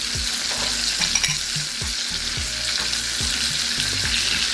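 Brown sugar stirred into aged balsamic vinegar in a hot pan, with a steady sizzle and repeated scraping, swishing strokes of a utensil at close range.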